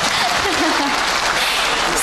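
Audience applause at a live stage show featuring errenzhuan and vocal mimicry, a dense continuous clatter of clapping hands filling the room from start to finish, with a voice briefly audible over it.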